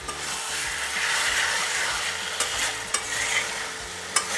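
Mutton mince sautéing in a pan, a steady sizzle with scraping stir strokes and a few sharper clicks of the spatula against the pan, close and without talk.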